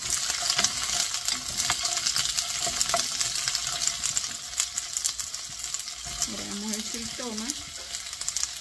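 Vegetables and garlic sautéing for a shrimp soup give a steady, close sizzle and crackle of frying, with occasional stirring clinks, continuing under a brief spoken word near the end.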